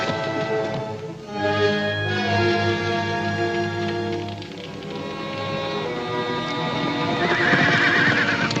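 Horses whinny loudly and repeatedly while hooves clop nearby, with no talking.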